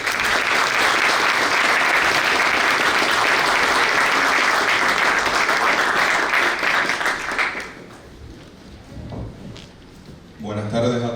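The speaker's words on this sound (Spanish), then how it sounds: "recibamos con un caluroso aplauso al doctor Hernando Estaglia" A warm welcoming ovation for a doctor taking the stage at a lecture event, dense sustained applause for about seven seconds that fades to scattered claps, then a brief burst of clapping near the end.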